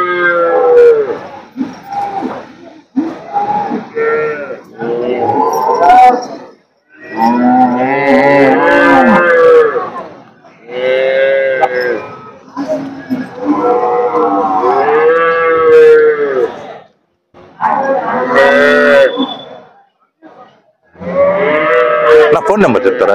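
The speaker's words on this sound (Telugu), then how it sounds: "మంచి క్వాలిటీ కలిగిన ఆవులండి ఇవి." Cows, including HF and Jersey dairy cattle, mooing at a weekly cattle market in Punganur. Long, loud, close moos repeat one after another with short pauses between calls.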